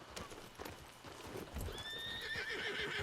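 A horse in the video game Red Dead Redemption 2 clip-clopping along with steady hoofbeats, then letting out a rising whinny near the end, over a low outdoor ambience with a faint voice in the background.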